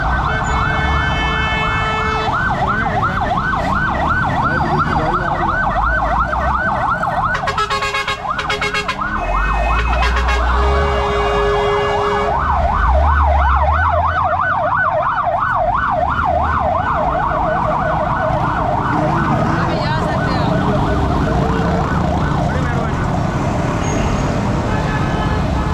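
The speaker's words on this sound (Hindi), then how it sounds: "तो फायर ब्रिगेड की गाड़ियाँ बहुत जल्दी में" Fire brigade vehicles race through busy Karachi street traffic, their loud wailing sirens cycling continuously close by over the steady roar of road noise and engines.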